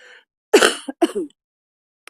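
A person clears their throat twice in a quiet council meeting room, two short close rasping bursts, the first heavier, the second lighter.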